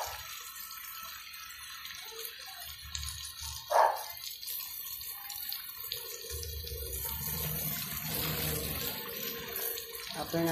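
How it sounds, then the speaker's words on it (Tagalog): Battery acid drains from a dead battery being restored, a thin trickling stream of liquid that runs unevenly and thickens in the second half, with a brief knock partway through. "Yan din i-drain natin mga guys."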